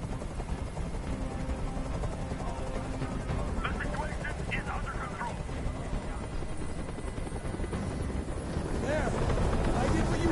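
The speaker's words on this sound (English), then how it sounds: "I can't stand that noise anymore! Tell that helicopter to get out of here!" A helicopter in the video game Detroit: Become Human gives off a steady, whooshing rotor and engine rumble with wind-like noise that builds slightly toward the end, partly under voices.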